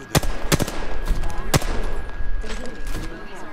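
Video game gunfire rings out in rapid bursts of sharp shots, loud and close, under excited talk between players.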